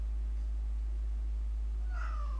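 A cat gives a single short meow near the end, faint against a steady low hum and background noise, with no talk over it.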